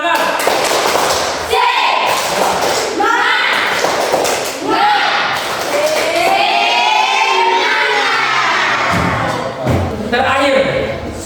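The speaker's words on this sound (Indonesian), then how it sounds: "Tepuk semangat." An Indonesian school class, led by the teacher, performs a 'tepuk semangat' clapping routine: loud rhythmic claps and thumps in bursts, mixed with children's shouting and chanting voices throughout.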